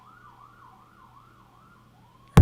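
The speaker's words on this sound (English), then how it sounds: "Here comes a fire truck." A fire truck siren wails past in a steady, repeating rise-and-fall at moderate distance, fairly faint with no talk over it, and ends in a sudden loud burst.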